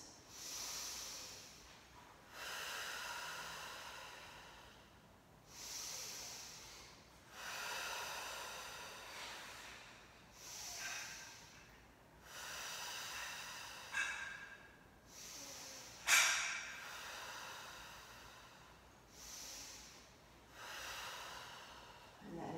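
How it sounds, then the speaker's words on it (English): Slow, deep breaths during a Pilates session, six or so long airy inhale-exhale cycles, each several seconds long, close and soft, with one sharper snort-like breath near the middle. "We end our practice with 5 thoracic breaths"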